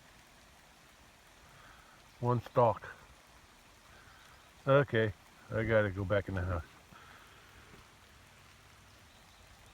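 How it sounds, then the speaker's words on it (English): Rain falls on a home vegetable garden with asparagus during Tropical Storm Beryl, a soft, even hiss throughout. Someone speaks briefly over it. "It's raining now."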